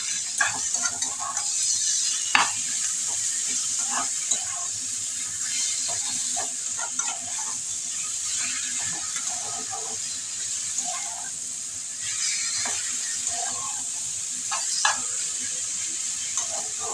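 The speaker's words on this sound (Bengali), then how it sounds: "এবার আমি জল ঝরিয়ে রাখা কচু শাকটা দিয়ে দিচ্ছি।" Drained taro greens frying with coconut in a pan, a steady sizzle and hiss with scattered stirring clicks and scrapes throughout, close and continuous.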